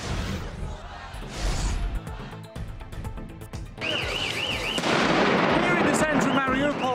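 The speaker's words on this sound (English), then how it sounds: "there's explosions going off behind me, there's a military vehicle burning" Explosions boom and crack during street fighting in Mariupol, Ukraine: several sharp bursts land in the middle of the clip, followed by a wailing car alarm over a noisy, chaotic outdoor background.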